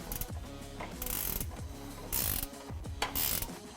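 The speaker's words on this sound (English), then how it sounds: "Just like the other side, remove the nut," A ratchet or wrench clicks rapidly at close range in several bursts while the nut comes off the upper control arm bolt of a 2017-2018 F-150 Raptor, with no talking.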